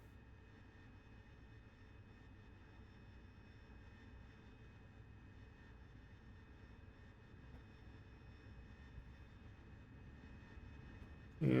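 Harrier jet engine in the DCS flight simulator, hovering with nozzles tilting forward: a steady, fairly quiet whining drone with constant tones, unchanging throughout, with a brief louder burst at the very end.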